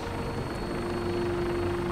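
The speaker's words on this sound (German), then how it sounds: "Dann steigen wir mal in unseren Heli" Vertibird helicopter in Fallout 4 gives a steady, close rotor and engine drone with a constant hum, heard alone without talk.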